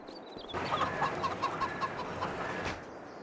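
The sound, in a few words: chickens and rooster clucking in Farming Simulator 25 video game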